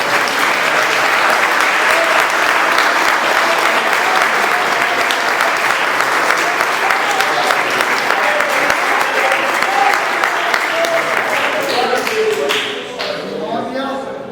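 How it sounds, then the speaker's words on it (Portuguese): A church congregation at an evening prayer service applauds steadily, a loud, dense wash of clapping that continues for about twelve seconds before thinning out near the end. "você pode essa noite aplaudir o nome do Senhor Jesus"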